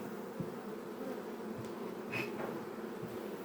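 Honeybees buzz around an open hive frame during an inspection, giving a steady close drone with passing individual bees rising and fading, and no talk.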